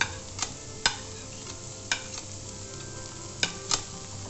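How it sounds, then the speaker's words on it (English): Onions, grated coconut and red chilies stirred in a frying pan, with a soft steady sizzle underneath and several sharp scraping clicks of the spoon against the pan at irregular intervals. "we continuously stir the coconut along with the onion and the red chilies till they are brown in color"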